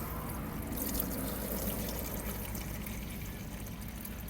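Water mixed with oil draining out of a car engine's oil pan into a bucket, a steady close trickling pour that runs without a break and with no talk over it.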